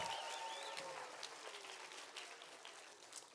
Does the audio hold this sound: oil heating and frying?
no